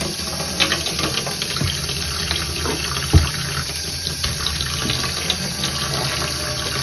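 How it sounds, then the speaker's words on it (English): Hand-dyed yarn dyed in fluorescent rainbow colours being rinsed under a running tap, a steady broadband rush of water filling a sink with a few soft splashes and knocks. "I'm just going to give this another couple of rinse throughs"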